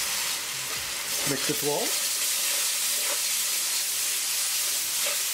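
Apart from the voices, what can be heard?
tomato sauce sizzling in a pan with spices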